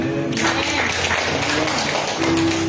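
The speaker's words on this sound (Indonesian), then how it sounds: "Berikan tepuk tangan." Audience applause at an Indonesian sermon on suffering, a sustained wash of clapping from a crowd with low voices mixed in, steady and moderately loud throughout.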